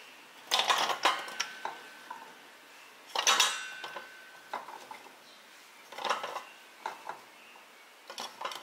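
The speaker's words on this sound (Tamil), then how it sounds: "இது வந்து வெங்காயம் கட்டர் மிஷினு, இதில் போட்டு கட் பண்ணிக்க போகிறேன்." An onion cutter machine chops onions for Madurai thalippu vadagam, giving bursts of sharp plastic clatter and clinks in irregular groups, fairly close and moderately loud, with quiet gaps between them.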